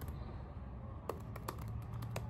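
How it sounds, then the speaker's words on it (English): Computer keyboard keys tapped in a short irregular burst of clicks, moderately close, over a steady low background hum with no speech. "Let me just type"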